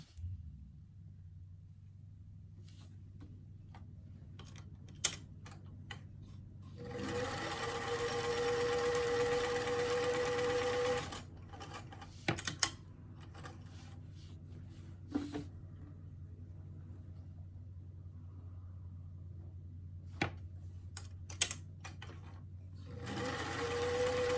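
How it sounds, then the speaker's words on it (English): A sewing machine sews the shoulder seams of a lined BJD doll dress in one loud, steady run of a few seconds, with scattered clicks and light handling sounds before and after against a low background hum. "we're going to go ahead and sew the back pieces of the dress to the front at the shoulder seams"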